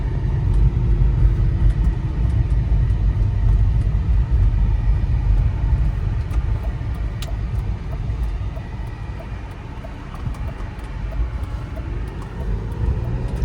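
A BMW E46 328i automatic pulls away hard with a low, steady engine rumble and road noise heard from inside the car, the drone easing slightly and then rising again toward the end.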